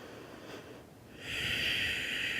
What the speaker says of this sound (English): Really soft, long, deep inhales. Easy, long exhales.